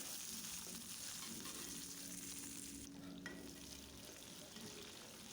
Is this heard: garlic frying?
yes